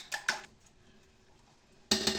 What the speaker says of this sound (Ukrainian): Вилкою це все добре перемішати тако.